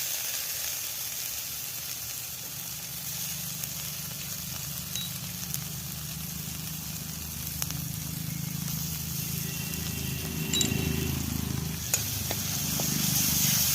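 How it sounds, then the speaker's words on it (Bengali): Ginger and garlic fry in hot oil while being stirred, a steady close sizzle and hiss that keeps going throughout, with occasional scraping and clinking from the stirring. "আদা রসুনটা আমি দিয়ে এবার ভালো করে আমি নেড়ে চেড়ে ভালো করে কষিয়ে নেব যতক্ষণ না তেল ছাড়ে।"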